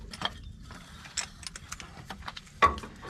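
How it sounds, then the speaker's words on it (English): A caravan jockey wheel holder is undone with a few faint mechanical clicks and ratcheting ticks, spaced irregularly over a quiet background with one sharper clack near the end. "so we'll undo our jockey wheel holder"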